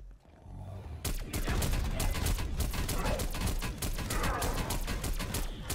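Rapid, sustained pistol gunfire in the Call of Duty Cold War Outbreak zombies mode, dense cracking shots starting after a second of quiet and continuing loud and unbroken to the end, with faint talk beneath.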